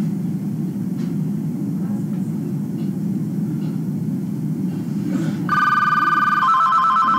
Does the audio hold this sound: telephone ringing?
yes